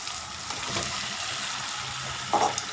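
Potatoes cook in oil in a home kitchen with a moderate, even sizzle, while a brief scraping clink of a utensil stands out near the end.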